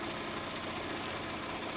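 A sewing machine stitches around a fabric folded star coaster, a fast continuous mechanical rattle of the needle running steadily and close up, with no pauses.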